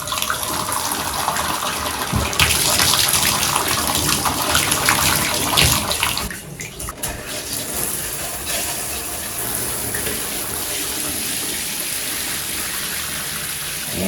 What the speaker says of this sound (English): I'm going to turn both hot and cold on, and you will see the water flow out of the lower tub spout